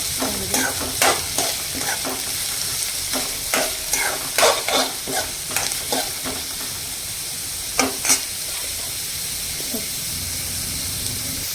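Onion frying in a pan for kanda poha, a constant hissing sizzle punctuated by a rhythmic series of sharp spatula scrapes and taps against the pan.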